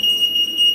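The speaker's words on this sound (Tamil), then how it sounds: "இப்படி பீப் சவுண்ட் வரும்." A library gate's RFID security alarm beeps as an unborrowed book is carried through: one steady, piercing electronic tone held loud and unbroken for under a second.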